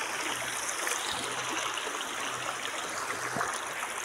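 A river stream flows in a steady, broad rush of water with gurgles and trickles. It is continuous and fairly close, with no voices.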